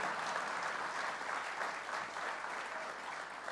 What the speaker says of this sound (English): you can clap on that